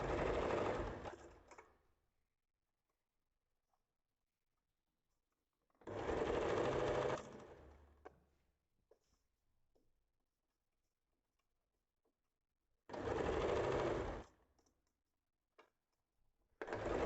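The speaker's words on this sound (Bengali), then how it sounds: "পেছনের গলাটা আমি মেশিনে সেলাই করে নিচ্ছি" Sewing machine stitching the back neckline of a square-neck nightie, running in three loud bursts of rapid whirring separated by long quiet pauses, with faint handling noises between.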